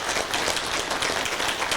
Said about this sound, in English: Everyone, please give a round of applause for this young gentleman.